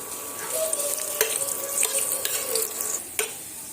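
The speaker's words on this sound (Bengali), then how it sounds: "তেলের মধ্যে দিয়ে পেঁয়াজটা একটু লালচে রং ধরে নেড়েচেড়ে ভেজে নেব প্রথমে" Onion and green chili frying in mustard oil, a steady close sizzle with soft stirring scrapes and a few sharper spatula knocks throughout.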